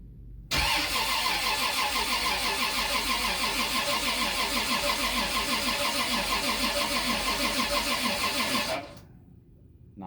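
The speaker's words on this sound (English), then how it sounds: "We're gonna give it our first crank, see what happens here." A turbocharged Lexus IS300 with a VVTi 2JZ-GE engine cranks for its first start. The starter churns loudly and rhythmically right up close for about eight seconds without catching, then cuts off abruptly.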